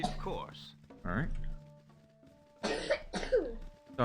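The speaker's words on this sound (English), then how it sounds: "you may hear my daughter coughing in the background." A sick young girl coughs in short, harsh bursts, a few separate fits a couple of seconds apart, close and fairly loud against a quiet indoor room.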